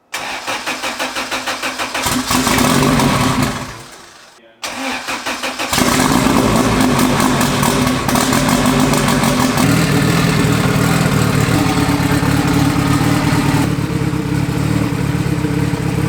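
A fully built turbocharged Honda Civic running a new tune, fresh injectors and new plugs cranks and fires up loud and close, stumbles briefly, then settles into a steady, slightly lean-sounding idle.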